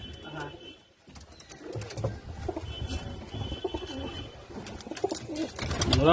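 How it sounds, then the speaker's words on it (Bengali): Teddy pigeons coo softly in a pigeon market, with repeated low coos and occasional chirps over busy background noise. "টেডি পায়রা"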